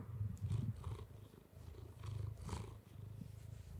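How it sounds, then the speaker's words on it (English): A cat purrs steadily and close up, a low rhythmic rumble that swells and fades with each breath, with no voices over it. "That's a cat."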